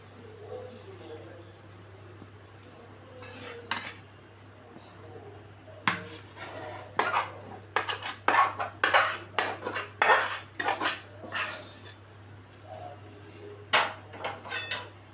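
Whole lote fish curry is served with clattering dishes and cutlery, bursts of sharp clinks and scrapes of a spoon against plates coming in rapid clusters over a low steady hum, with occasional talk.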